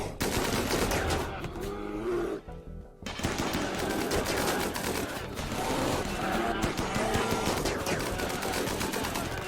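Loud, dense video-game gunfire from a Rimworld colony battle at a defended kill zone with turrets, rattling in sustained automatic bursts and overlapping shots that barely pause, nearly continuous throughout.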